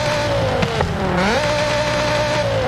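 A tuned Audi RS3 engine in the Forza Horizon 5 racing game holds a steady droning rev with a brief pitch dip and recovery, loud and continuous without talk.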